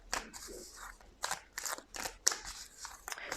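Tarot cards being shuffled by hand, a series of close, crisp riffling and snapping bursts in an uneven rhythm, quiet and with no talking.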